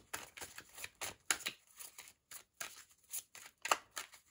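Tarot cards being shuffled and drawn, a series of quick, crisp riffling and slapping bursts in an uneven rhythm, close and soft, with no talking.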